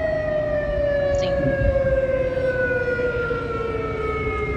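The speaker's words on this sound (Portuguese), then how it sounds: "a sirene já é assustadora" An evacuation siren wails steadily in a city during a hurricane, a continuous loud tone sliding slowly downward, with brief talk over it.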